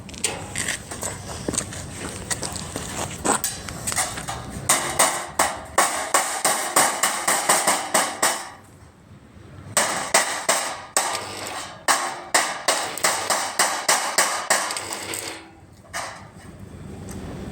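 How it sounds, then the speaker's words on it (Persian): Repeated sharp hammer blows on metal while building a handmade car dashboard, in quick bursts, each run of strikes separated by brief pauses, close and loud. "چکش"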